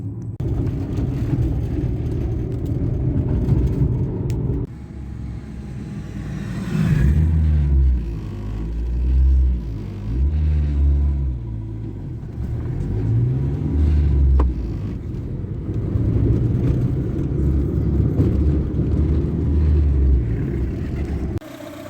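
A 1997 Renault Twingo mk1 drives out of a workplace parking lot, its small engine giving a steady low rumble with a few rising and falling rev swells, heard from inside the car with no talk.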